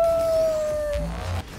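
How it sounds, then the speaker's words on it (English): Drawn-out howl from a creature in the video game Risk of Rain 2, one steady wavering tone sliding slowly downward, followed by low rumbling game sounds near the end. "Now we're gonna have to listen to howls"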